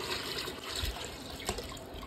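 Water pours into an automatic foot spa massager, a close, continuous splashing trickle with a small gurgle near the middle, brief and moderately loud with no talk.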